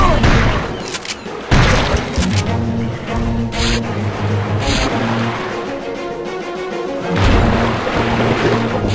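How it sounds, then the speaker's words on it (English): Shotgun blasts in the Turok 2 video game at the Port of Adia, with loud booming shots and heavy rumbling game effects over several seconds. "Shotgun."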